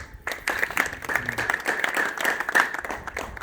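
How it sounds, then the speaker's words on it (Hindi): Audience applause at a gathering in Shivpur: dense, sustained clapping from many hands that continues steadily and fairly loudly, with a faint tonal hum running underneath. "तो बताइए जोरदार ताली"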